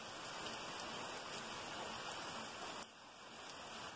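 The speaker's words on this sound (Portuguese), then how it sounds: "É uma chuva assim constante, sem ventania." Steady, calm rain falling without wind at the end of an afternoon, a dense even hiss of drops on surfaces that stays constant throughout, faint and unbroken by voices.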